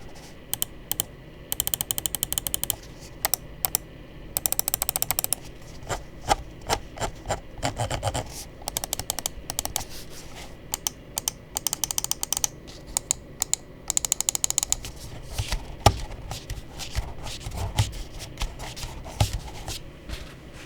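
Rapid, crisp button clicks from a Vaxee Zygen NP-01 wireless gaming mouse in irregular bursts and rattling runs, close up, with brief pauses between sequences.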